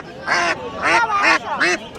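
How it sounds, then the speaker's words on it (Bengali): Domestic ducks at a rural Bangladeshi market quack loudly and close by, four nasal quacks in quick succession. "তো এইদিকে দেশি হাঁস আছে"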